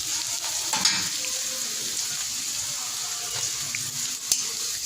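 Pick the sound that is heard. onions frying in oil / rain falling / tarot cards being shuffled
onions frying in oil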